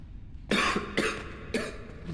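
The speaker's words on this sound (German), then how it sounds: "Na gut, dass er nur gehustet hat und nicht gleich erstickt ist." A game character in the horror game Coldside coughs three times in rough, evenly spaced bursts, loud and close, with a faint background hum between them.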